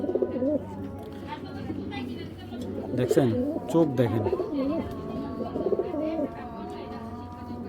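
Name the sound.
pigeons cooing, Indian giribaj pigeons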